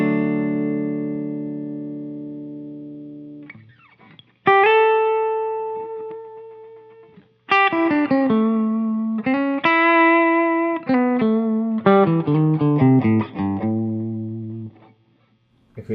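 Electric guitar on the bridge pickup played through the vibrato channel of an amp, with a long sustained chord followed by a run of bright picked single notes and chords, close and loud with a shimmering wobble and some distortion.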